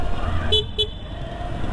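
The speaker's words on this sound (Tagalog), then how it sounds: "hindi siya tulad ng mga ordinaryong stock na mga busina na pang e-bike. Ito malakas-lakas na" Horn of a Suzuki Avenis 125 scooter giving two short, loud toots in quick succession, close by, over a low background rumble.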